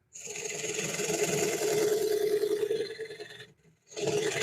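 A wood lathe re-turns a bowl as a carbide tool cuts aggressively, making a close, rough scraping hum. It stops briefly and then starts again.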